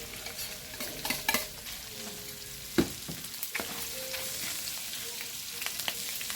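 Onion and garlic sautéing in hot oil for pork afritada, a continuous moderate sizzle broken by spatula stirring scrapes and a sharp utensil knock near the middle.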